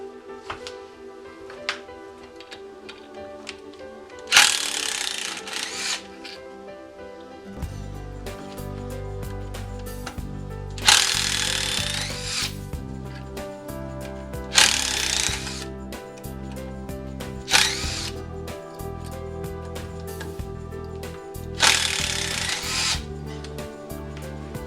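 A wood lathe spins a mesquite stump bowl blank with the tailstock brought up as it is trued, giving a steady mechanical hum broken by repeated loud bursts of gouge cutting and rattling at close range.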